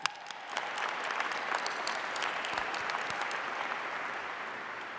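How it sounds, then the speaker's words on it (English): An audience at a Martin Luther King Jr. celebration in Tacoma applauds steadily, a sustained crowd clapping with sharp individual claps standing out at the start, moderately distant and even throughout. "We can clap for that."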